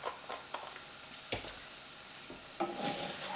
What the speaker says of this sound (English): I like to add a little soy milk